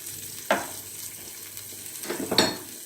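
Tomato slices sizzle softly in a frying pan, seasoned with salt and thyme, with a few sharper utensil scrapes over the quiet frying and no talking.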